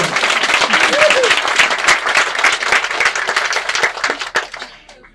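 Guests at a customary Gabonese wedding break into loud, close applause with sharp individual claps and some crowd voices, the clapping thinning out and fading away in the final second.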